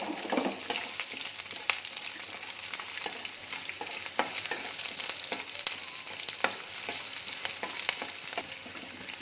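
Onions sizzle and crackle steadily in hot oil, with occasional scraping taps of stirring, close and continuous with no talking.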